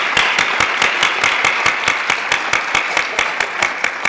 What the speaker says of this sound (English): Let's give them another round of applause for these very talented students and their director.